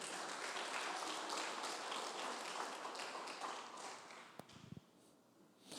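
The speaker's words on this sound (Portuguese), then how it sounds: "Dê as palmas para o Senhor bem alto" A church congregation claps loudly and steadily in praise, a dense wash of hand claps that fades toward the end, leaving a few scattered taps.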